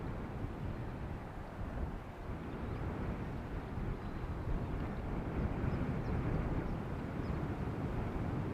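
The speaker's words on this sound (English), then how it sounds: "So I think we see the 767 in the distance." A Boeing 767 airliner at Amsterdam Schiphol Airport rumbles far off, a low broad roar that slowly builds over several seconds amid outdoor wind noise, with no voices.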